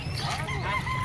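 Ducks at an open-air tiangge market in Calumpit, Bulacan, give a brief nasal honking quack, close and moderately loud, over low market ambience.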